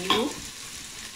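Onions stirred with salt in a frying pan for fish curry, a short scrape of the spatula over a soft, faint sizzle, close by with no talk.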